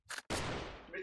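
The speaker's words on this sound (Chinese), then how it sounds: "这是喷子" Shotgun blast in the shooter game Delta Force on the Sub Base map, one short preceding sound then a single loud, close boom with a long decaying tail.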